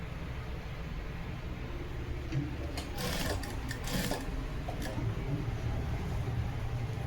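A sewing machine stitches piping around a round neckline, running as a steady, continuous whir with some brighter, busier bursts midway, close and fairly quiet.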